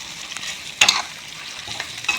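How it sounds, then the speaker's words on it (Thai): Sliced eel being stir-fried in a pan, with scraping stirs of a utensil against the metal over a soft, constant sizzle, with a few sharper clatters. "ผัดเข้าไปนะครับ ผัดไปเรื่อยๆนะครับ"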